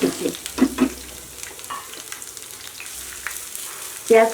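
Chopped onion and dried red chillies fry in ghee for Bengali beef kala bhuna, a moderate, close sizzle broken by several louder stirring scrapes and knocks at the start and end.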